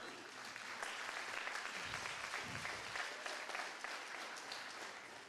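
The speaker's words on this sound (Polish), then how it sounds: "give a round of applause for a higher reading" A crowd applauds at a seminar, a faint but continuous wash of clapping that sounds somewhat distant and stays even throughout.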